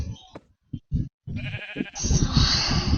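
A tiny piglet squeals close by: a few short grunts first, then a loud, sustained high squeal that runs to the end.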